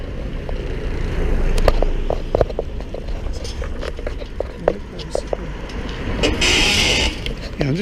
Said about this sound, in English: Jeez, a lot of traffic.